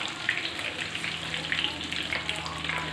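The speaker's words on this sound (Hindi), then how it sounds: "गोश्त फ्राई हो चुका है" Pieces of lamb frying in oil for a Balochi Shinwari dish give off a steady hiss with faint crackles throughout, moderately loud and close, with no talk over it.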